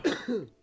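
A voice imitates coughing with two short, close, throaty bursts in quick succession, like a mock cough.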